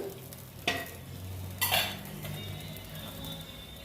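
Mustard oil hits a hot pan where paneer has just been fried, bringing a steady close sizzle with two sharp metallic clinks of a utensil partway through.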